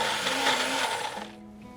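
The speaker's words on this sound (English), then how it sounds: "let's blend this up" A blender whirs loudly and steadily blending pesto, its motor pitch shifting as it runs, then cutting back to a lower hum near the end.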